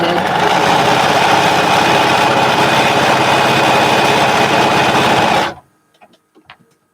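A sewing machine stitching quilt fabric runs in one loud, steady, close burst for several seconds, then stops abruptly, leaving a few faint clicks and handling noises.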